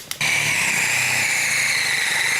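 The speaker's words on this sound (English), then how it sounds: "Now I'm going to hit it with a 12mm drill." A steady, loud mechanical drone of a power drill with a 12mm bit running continuously after a brief click at the start, close by with no pauses, working on a rotary-swapped Honda QA50.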